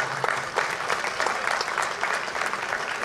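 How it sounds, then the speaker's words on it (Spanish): A crowd at a historical re-enactment in Villena claps steadily and evenly for about three seconds, the applause staying close and unbroken. "Un aplauso, ha hecho muy bien."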